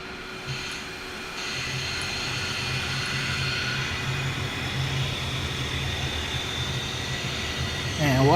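In the X-Plane 12 flight simulator, engine number 2 of a Toliss A320neo spools up at Faro: a soft click, then a steady, moderately loud whine and rumble that holds evenly and swells slightly near the end.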